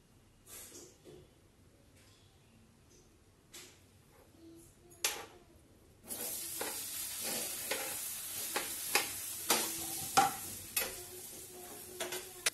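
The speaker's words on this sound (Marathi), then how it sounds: "तर 1-2 मिनिट तुपामध्ये पनीर छान असं थोडंसं फ्राय करून घ्यायचं." Paneer pieces fry in ghee in a pan, with a quiet stretch giving way to a steady close sizzle halfway through, dotted with sharp clicks and taps of stirring.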